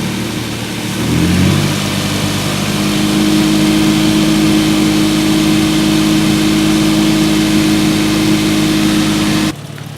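Xrunner engine starting up and then running at a steady, loud idle with a constant low drone for several seconds before cutting off abruptly near the end.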